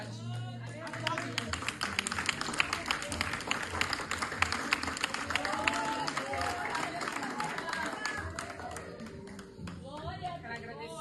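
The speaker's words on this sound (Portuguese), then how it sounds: "Aplaude." A church congregation applauds at a women's union worship service, with clapping and crowd noise building over several seconds. Voices and cheering are mixed in, and the applause thins near the end.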